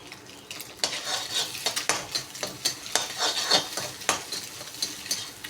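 Three cracked eggs fry in a pan for chicken rice, a close sizzle punctuated by repeated sharp scrapes and taps of a utensil against the pan, coming in irregular bursts.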